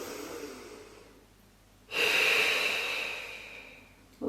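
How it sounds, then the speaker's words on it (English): Slow, deep breathing during a gentle Pilates session: a soft, faint inhale followed by a louder, airy exhale through the mouth, close to the microphone. "going to stay here a moment for some deep breaths"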